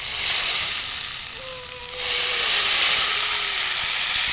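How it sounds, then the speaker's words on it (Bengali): Hot oil poured over shredded raw mango for a pickle sets off a loud, continuous steamy hiss and sizzle, swelling midway and holding steady, with faint whistling tones running through it. "এবার আমি আমের ভিতরে গরম তেলটা ঢেলে দেবো।"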